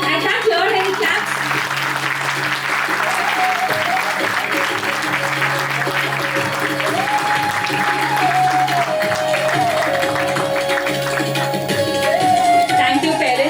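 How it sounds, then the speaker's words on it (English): Parents clap steadily in a sustained round of applause at a school annual day, with a crowd cheering and a voice speaking over it amplified. "Thank you, parents, who patiently wait and encouraging us with this wonderful cheer and clap."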